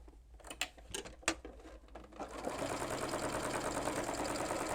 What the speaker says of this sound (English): I'm going to place this down here right along the edge and edge stitch this into place